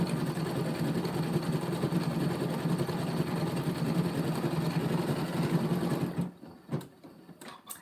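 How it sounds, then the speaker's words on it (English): A Janome Continental M17 sewing machine stitches thread with a fast, steady mechanical whir for about six seconds. It then stops, leaving a few faint clicks and handling knocks. "my machine is called a Janome Continental M17"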